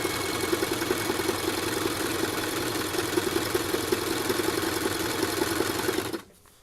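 Sewing machine zigzag stitching around the edge of a baby changing mat, a rapid, steady mechanical chatter running close and continuous before stopping abruptly near the end.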